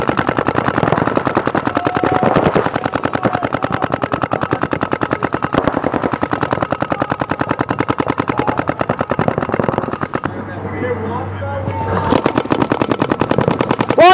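Rapid, continuous bursts of paintball markers firing at a tournament-style event, a dense machine-gun-like rattle that runs loud and steady for about ten seconds, breaks off briefly, then resumes.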